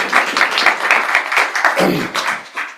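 A small audience at a teaching community event claps briefly for a visiting team, giving scattered, close, uneven hand claps that rise and fade over a few seconds.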